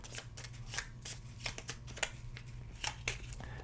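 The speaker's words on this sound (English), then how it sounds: "we're going to shuffle them up" Majesty board game cards being shuffled by hand at close range, a soft continuous riffle of quick papery flicks and snaps, with no talking.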